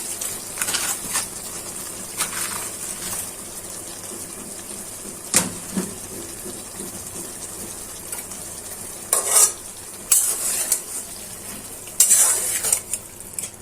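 Steamed water lily stems are stir-fried with small shrimp in a pan, a gentle continuous sizzle broken by sharp clatters and scrapes of the spatula against metal, several louder stirring bursts near the end, and no talking.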